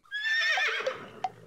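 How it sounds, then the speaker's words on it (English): A horse whinnies in a video game, a bright rising-and-falling neigh lasting about a second, followed by a few short clicks and thuds, with no talking. "Look at my horse. My horse is amazing."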